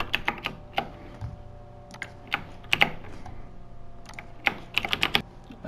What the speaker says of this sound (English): Type in the employee's name.